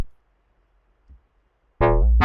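Dry bass sample with no effects applied, near silence with faint low rumbles, then two loud, bright bass hits with strong harmonics, the second cutting off at the end.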